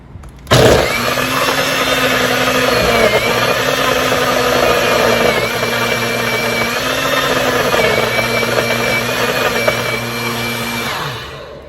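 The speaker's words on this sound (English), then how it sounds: "Now is the time to blend away. It's going to be a little easier for my blender." A blender blending soaked chocolate tablets starts abruptly and runs loud and steady for about eleven seconds, its motor pitch wavering slightly as it churns, then winds down.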